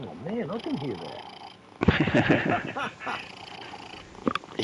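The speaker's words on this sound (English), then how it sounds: "He's got a big purr on him." A cat purring while getting a scratch, a low rumbling purr close to the microphone, mixed with a voice talking over it.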